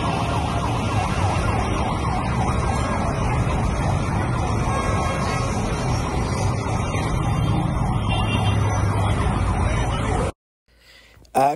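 Ambulance and fire engine sirens wailing at a metro train accident in Santo Domingo, Dominican Republic, loud and continuous over traffic noise, cutting off abruptly near the end.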